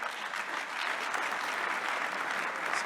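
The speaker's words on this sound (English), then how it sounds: "A round of applause for." Audience applause at a Square Kilometre Array opening ceremony marking the start of construction, a dense, even wash of clapping from many hands lasting a few seconds with no voices.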